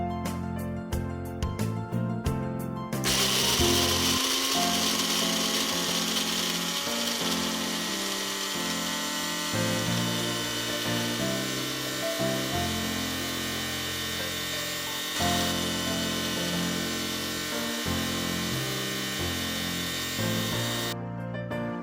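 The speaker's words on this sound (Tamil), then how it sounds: "நெக்ஸ்ட் நம்ம இது மிக்ஸி ஜாரில் போட்டு கிரைண்ட் பண்ணிடலாம்" A mixer grinder jar blends almonds with rose water, a loud, continuous motor whir with shifting churning tones after a brief start-up, running close for about twenty seconds before stopping.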